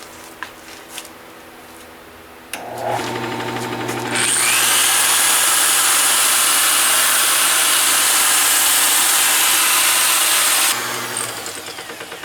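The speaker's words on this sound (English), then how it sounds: "I'm going to sand it. I'm going to do most of it with this disc." A power tool whirs up, then settles into a loud, steady grinding hiss as a spinning disc sands a turned wooden sphere, holding for several seconds before easing off.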